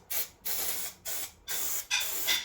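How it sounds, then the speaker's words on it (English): Spray adhesive hissing from a can onto the headlining of a Land Rover Defender 130 TD5, five separate bursts of about half a second each with brief pauses between, close and clear with no talk. "Now we need to spray some glue on."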